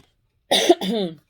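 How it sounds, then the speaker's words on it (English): A single harsh cough from someone with allergies sounds close up, followed by a brief rasping throat-clearing sound, then silence. "so I may be coughing here and there"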